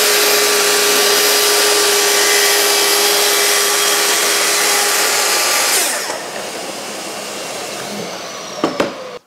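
A Cutpro saw blade rips through 25mm thick MDF veneered on both sides, a loud steady whine for about six seconds, then the cut ends and the motor spins down with a couple of knocks.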